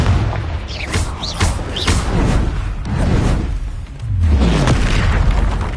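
Confringo fire-blast spells exploding in Hogwarts Legacy, loud booming blasts close together with whooshing bursts and a deep rumbling impact toward the end.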